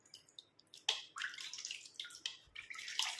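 Water trickles and splashes in irregular bursts as hair dye is rinsed off hair by hand, close and fairly quiet with no talking.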